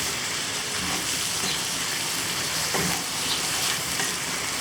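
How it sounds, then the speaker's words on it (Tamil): Prawns and potatoes frying in masala in a pan, a steady close sizzle with occasional scraping as the mixture is stirred. "இப்போ நம்ம க்ளீன் பண்ணி வச்சுருக்க ப்ரான்ஸை வந்து இதில் போட்டுடலாம்."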